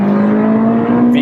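A Honda Integra Type R DC5 with a K20 engine drones loud and close with a steady tone, holding its pitch through a brief stretch of acceleration in second gear.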